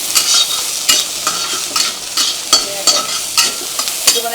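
Onions frying in a pan with fish, a steady close sizzle broken by repeated bursts of stirring and scraping, with no voices.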